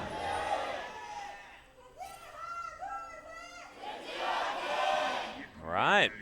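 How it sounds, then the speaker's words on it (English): Esports fans at a League of Legends LCK Summer Split match between bbq OLIVERS and Gen.G cheer in the arena, a rising, swelling crowd roar with shouts mixed under a commentator's voice. "BBQ fans a little bit louder here for this cheer"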